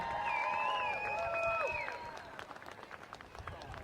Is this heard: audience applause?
yes